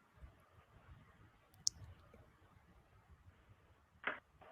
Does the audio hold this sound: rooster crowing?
no